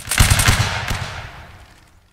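A musket volley rings out in the Napoleonic Wars video game: a quick crackle of several near-simultaneous shots, then a rolling echo that fades away over about two seconds.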